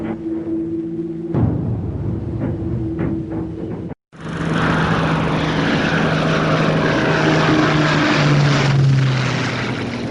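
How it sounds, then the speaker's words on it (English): WWII propeller-driven strike planes launch from an aircraft carrier that has turned into the wind, a loud, droning engine roar that drops out briefly, then returns as a fuller, sustained rumble with a rising whine. "He turns into the wind and prepares to launch his strike planes"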